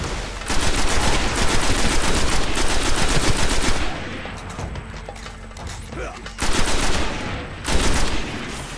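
Rapid automatic weapon fire in the sci-fi shooter Destiny on PS4, loud staccato bursts lasting several seconds, a quieter stretch with scattered effects and mechanical clatter, then two shorter bursts near the end.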